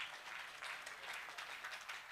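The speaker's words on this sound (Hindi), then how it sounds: "थोड़ा और तालियां आनी चाहिए।" Brief, faint audience applause at a Hindi speaking event, a soft wash of clapping heard from a distance.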